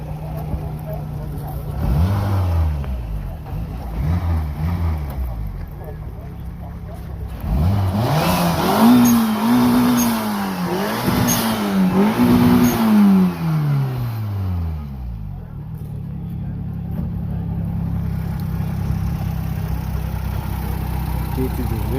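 Car with a BMW engine at a car market, revved repeatedly so the pitch climbs and falls in several loud sweeps before settling back to idle, with people talking nearby.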